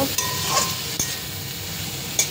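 Cauliflower and potato pieces sizzle and crackle in a hot pan, a steady frying hiss with brief scraping stir sounds from a spatula.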